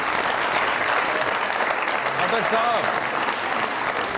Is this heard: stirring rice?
no